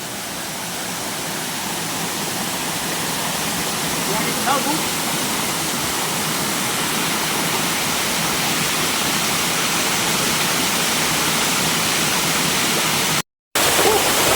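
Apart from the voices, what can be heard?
small waterfall at Curug Cigayor, Pangandaran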